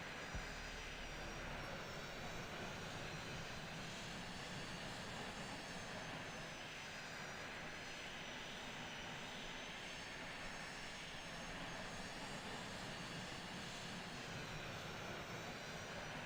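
Constant loud roar of an MD-80 (Super 80) jet's engines in Microsoft Flight Simulator, a dense, unchanging drone with a high whine on top and no talk.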